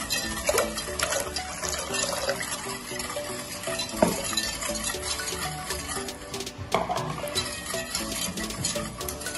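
A spoon stirring a watery pudding mixture in a pot as it heats on the stove, steady close scraping and swishing with occasional sharper knocks against the pot, no voices.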